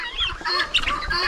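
A hen and her chicks cluck and cheep close by in a farmyard, a short burst of soft overlapping peeps and clucks.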